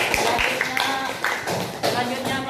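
A classroom of students claps together in a brief burst of applause, irregular overlapping hand claps at close range, mixed with some chatter.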